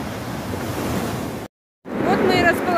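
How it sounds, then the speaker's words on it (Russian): Ocean surf rolls onto a stony beach in Miraflores, a continuous roar of breaking waves with wind buffeting the microphone, briefly cut off before the wash resumes with faint bird-like whistles over it. "Ну а вот и сам пляж."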